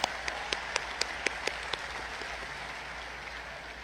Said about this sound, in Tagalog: Pumalakpak tayo gaya ng pagmamahal sa Poong Nazareno.